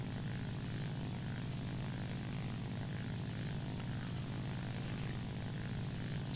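Steady, unbroken drone of a Ki-84 fighter's piston engine and propeller in War Thunder, heard at constant loudness from inside the flight with no speech.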